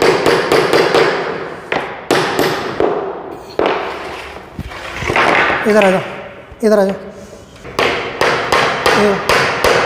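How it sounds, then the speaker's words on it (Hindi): Hammer blows driving a nail into a plywood board in a woodworking shop, a loud, close series of sharp rapid strikes in quick bursts, with a voice speaking briefly between them. "आप हथौड़े की सहायता से चोट मारकर उसे बोर्ड में धसा देंगे"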